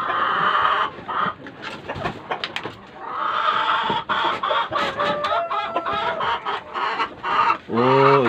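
Village chickens on a farm cluck in a busy, overlapping chorus throughout, with bursts of squawking and a rooster-like call near the end.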